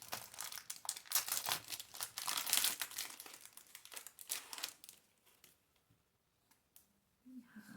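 Plastic wrapping on Pokemon card promos being torn and crinkled up close, a busy run of crackling and rustling that fades to near silence, with a quiet voice at the end.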